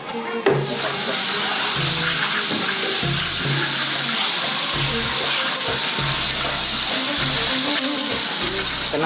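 Hot water boiled with jewelry and potash in a gold and silver plating workshop is poured out in a steady, loud, rushing stream lasting several seconds, close by, with no talking.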